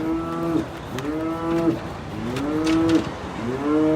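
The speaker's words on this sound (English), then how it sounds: "Do those sound like happy cows to you?" Several dairy cows moo in succession, long low drawn-out calls overlapping one another, fairly close and loud with no talking.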